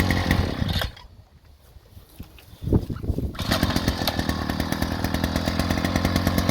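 A gasoline demolition jackhammer engine fires after a short quiet gap, then settles into a loud, fast, steady two-stroke buzzing rattle that runs to the end, with no talking.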